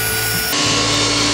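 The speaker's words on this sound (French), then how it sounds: "je pousse les rainures à la scie circulaire" A circular saw cuts grooves into wood, a loud steady whining roar that shifts pitch slightly about midway as the blade bites, continuous throughout.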